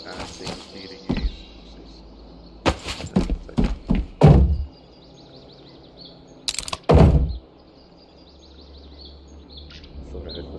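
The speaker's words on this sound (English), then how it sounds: "Thought I heard footsteps." Footsteps in the video game Road to Vostok, a handful of sharp, fairly close thuds in two irregular clusters over a low ambient background, with faint bird calls.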